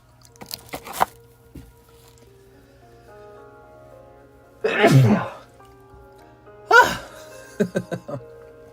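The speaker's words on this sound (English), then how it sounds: "I gotta sneeze." Two loud, close sneezes a couple of seconds apart, with a few softer sniffs and small clicks before them and a quick burst of short sounds after.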